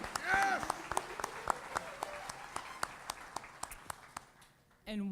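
Scattered hand claps ring out at a college convocation, a loud whooping cheer opening the stretch, then individual claps spaced out and fading, with a brief voice at the end.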